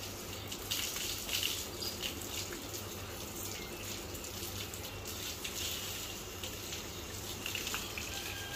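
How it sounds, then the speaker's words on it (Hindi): Water running from a hose pipe while a goat is washed outdoors, a steady, continuous gush and splash at low level with faint clatter and no talking. "बकरे को एक साइड पे बांध दिया और पानी के पाइप भी चला लिया"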